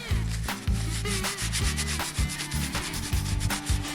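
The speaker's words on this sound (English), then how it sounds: "I'm just gonna take these and literally just rub all of this off." Harvested sunflower heads rubbed by hand outdoors to strip off pollen, a close, rhythmic scratchy rubbing in repeated strokes with no talk.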